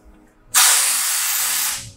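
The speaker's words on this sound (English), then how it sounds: "I'm gonna quick shrink it with super cold compressed air." A loud, steady hiss of super cold compressed air spray on a car dent bursts on abruptly and holds for over a second before tapering off, close to the microphone.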